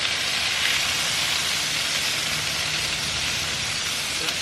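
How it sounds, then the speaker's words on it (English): Onions sizzling in butter on a Blackstone griddle, a steady broad hiss that holds evenly throughout, fairly quiet and continuous with no talk. "Put the onions right into it."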